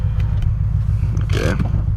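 A tuned Subaru BRZ fitted with a JDL header that has a leak idles with a steady, loud, low exhaust drone, then rises in one brief rev burst near the end before settling.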